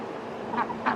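A Cayuga duck gives two short, raspy quacks close together, near and moderately loud over faint background noise.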